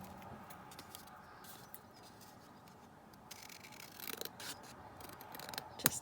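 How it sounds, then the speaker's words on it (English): Scissors snip through paper in quiet, close, intermittent cuts, growing a little busier toward the end while trimming a vintage fashion plate for a junk journal. "let's cut along the top"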